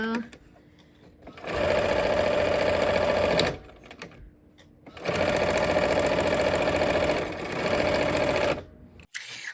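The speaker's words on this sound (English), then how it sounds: "So let's go ahead and sew." A sewing machine stitching a quilt border runs in two long steady whirring bursts with a pause between, close and loud, then stops; no talking over it.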